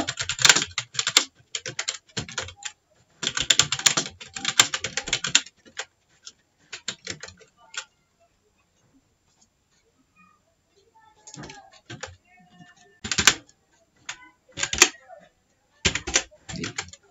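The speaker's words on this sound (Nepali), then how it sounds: "मैले यहाँ यहाँ टाइपिङ गर्न खोजे भने टाइप गर्दा भएन हैन" Clicking keystrokes on a computer keyboard come in bursts of rapid typing separated by quiet pauses, close and crisp, with speech in the background.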